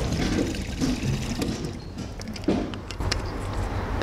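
Water running from an artesian well on Buick Street in Petone, a steady outdoor gush and trickle with a few brief knocks and splashes over constant ambient noise.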